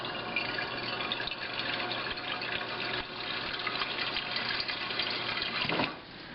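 Water running steadily into a Megahome water distiller, a continuous close splashing pour that holds for several seconds before tapering off near the end.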